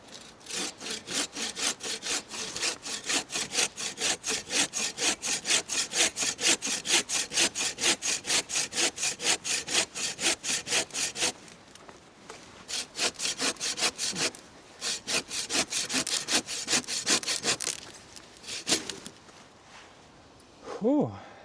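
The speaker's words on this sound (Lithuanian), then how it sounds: "tai mano turistinis pjūkliukas, kuris nepjovė praeitą kartą, kai stovyklavom miške" A small camping hand saw cuts through a not-very-thick piece of wood outdoors, its steady rasping back-and-forth strokes loud and rhythmic, with a brief pause midway before sawing resumes and then stops.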